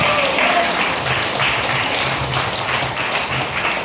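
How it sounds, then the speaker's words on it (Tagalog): Congregation applause at a Filipino worship service, a thick, continuous wash of clapping from a large crowd, loud and sustained for the whole stretch with faint voices underneath. "Grabe po yung palakpak niyo sa Lord."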